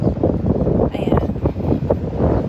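Hot, oven-like wind gusting outdoors, buffeting the microphone with a steady low rumble and rising gusts, fairly close and moderate in level with no clear speech over it.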